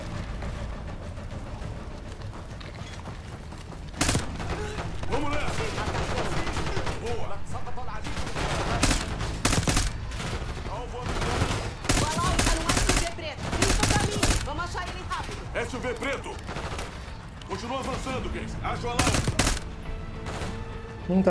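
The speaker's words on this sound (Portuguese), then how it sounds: "Não dá para ver como os tiros estão a acertar na pessoa." Gunfire in the Call of Duty Black Ops 6 campaign comes as dense bursts of rapid shots and sharp cracks over a busy game soundscape, loud and continuous, with voices in the mix.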